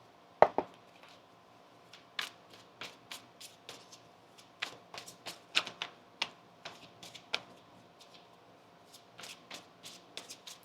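Tarot cards are shuffled by hand in a quiet room, with crisp irregular flicks and soft taps spread out over several seconds.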